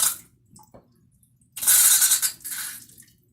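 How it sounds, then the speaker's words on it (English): Water gushes and splashes into a sink in a loud burst as a GE portable dishwasher, model GPT225SGLBB, drains, then a second shorter rush before trailing off, with a faint clink earlier. "that drains the water right out."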